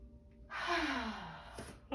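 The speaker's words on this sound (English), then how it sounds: "Take a deep breath." A single deep breath taken while standing up from a squat in a beginner yoga session, a soft close inhale followed by a longer airy exhale, quiet and alone.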